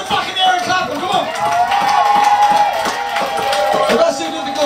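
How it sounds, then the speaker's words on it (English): A live concert audience claps along in a steady rhythm with the band, dense hand claps mixed with crowd noise and music, loud and continuous throughout. "Put your hands in the fucking air and clap them."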